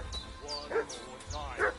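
A dog in Kingdom Come: Deliverance II barks excitedly in the village, two quick yelping barks close by over a low outdoor background.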